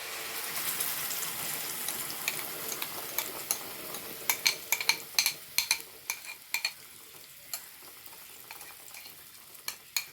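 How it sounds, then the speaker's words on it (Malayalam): Blended carrot being stirred in hot ghee in a pan for a carrot dessert: a soft bed of sizzle with a run of quick scraping, clicking strokes of a spoon, close up and with no voices. "നല്ലോണം ഇളക്കി കൊടുക്കാം നല്ലോണം ഇളക്കി കൊടുക്കട്ടെ"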